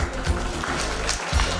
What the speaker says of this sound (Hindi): भविष्य ठाकुर के लिए तालियां